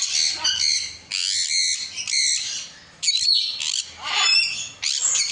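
Macaws, including scarlet macaws, squawk loudly in an aviary, harsh piercing calls in several long bursts separated by short pauses, close and with no talking.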